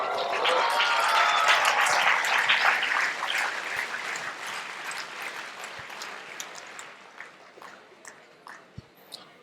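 A crowd at a talk claps loudly in dense, sustained applause that gradually fades, thinning into scattered individual claps toward the end.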